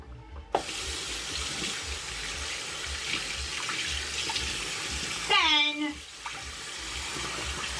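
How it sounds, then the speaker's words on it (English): Household faucet running steadily as someone washes their hands, a constant close rushing stream with a short splashy change near the end and light voices in the background. "wash your hands"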